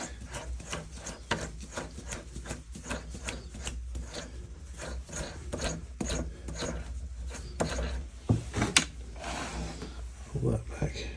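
A rod gets a screw thread cut for a 2BA nut, with a steady series of rasping scrapes and rubbing strokes close by, while people talk over the work.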